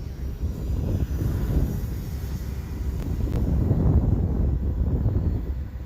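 An E-flite Turbo Timber Evolution RC airplane flies on windy day, its motor a steady, moderately distant drone under heavy rumbling wind buffeting on the microphone.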